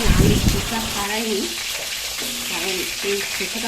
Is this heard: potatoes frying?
yes